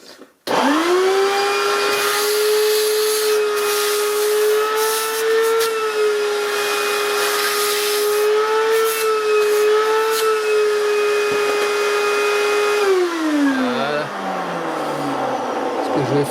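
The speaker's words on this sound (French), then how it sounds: "avec l'aspirateur" A loud, steady vacuum cleaner whine runs for most of the clip, then the motor winds down, its pitch sliding lower near the end, in a garage while cleaning brake cleaner from a Toyota Avensis with power loss.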